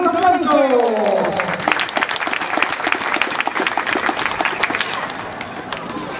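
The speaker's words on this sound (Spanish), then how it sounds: "¡Fuertes aplausos!" A crowd applauds a district mayor at a municipal gathering, with dense, loud clapping that follows a voice speaking over the start and keeps on steadily to the end.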